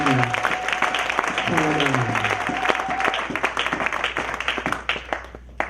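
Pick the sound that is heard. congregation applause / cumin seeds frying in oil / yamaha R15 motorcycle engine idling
congregation applause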